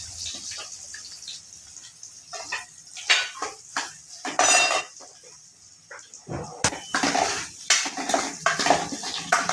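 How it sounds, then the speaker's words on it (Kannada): Onions, curry leaves and green chillies frying in a pan for masala dosa, with loud, irregular metal scrapes and clanks of a spatula stirring against the pan over a low sizzle. "ಎಲ್ಲವನ್ನು ಚೆನ್ನಾಗಿ ಈ ಥರ ಫ್ರೈ ಮಾಡ್ಕೊಂಡ್ಬಿಡೋಣ."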